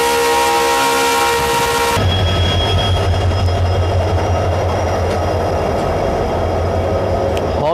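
A Yesvantpur–Vijayapura special fare train at Kunte railway station, opening with a loud multi-tone horn blast for about two seconds, then a steady low rumble of rolling wagons passing close by.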